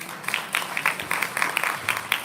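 An audience at a young adult student presentation day clapping in bursts, moderately loud, short and uneven, under a faint background murmur.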